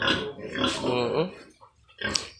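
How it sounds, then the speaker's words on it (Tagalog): Pigs on a farm grunt and oink in loud, close bursts, a dense run of snorts followed by a pause and one more sharp squeal. "Sobrang dami ng Mama Pig dito."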